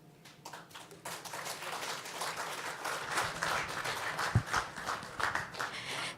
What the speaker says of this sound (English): Another round of applause to our Group CEO, Paul Russo, and our Group Finance Director